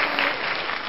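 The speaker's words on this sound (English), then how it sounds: "give her an applause or something?" Applause fills the whole second: a steady, dense clatter of clapping hands, loud and close, with no talk over it.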